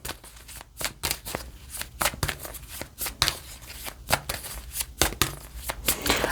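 Tarot cards are shuffled by hand in rapid, close riffling bursts, a dense flutter of papery slaps repeating steadily throughout with no talking.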